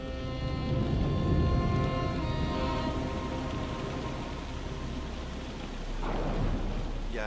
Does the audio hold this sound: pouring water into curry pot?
no